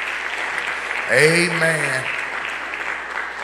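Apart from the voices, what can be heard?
congregation clapping hands in praise at church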